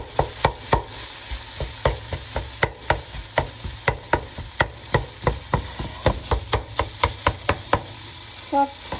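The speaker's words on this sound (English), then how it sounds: "I'm just going to keep sort of chopping it up." Food is chopped up in a pan just taken off the burner, with a steady series of sharp utensil strikes against the pan over a faint sizzle, close and distinct, with no talking.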